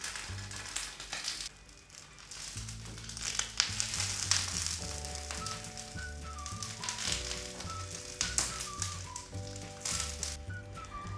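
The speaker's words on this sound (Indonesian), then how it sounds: "Kita panggang lemang sampai harum." Lemang sizzles softly on a grill pan, a low continuous crackle and hiss heard faintly under gentle background music.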